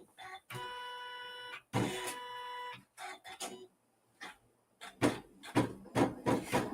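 A Janome CM17 embroidery machine stitching out a Halloween jack-o'-lantern design: rapid, steady mechanical whirring runs in two bursts between pauses, followed by quieter thuds and clicks, recorded close and without talk.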